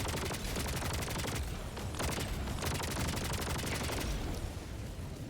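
Sustained rapid-fire weapon bursts from Helldivers 2 gameplay, loud and dense with brief pauses between volleys, continuing steadily throughout.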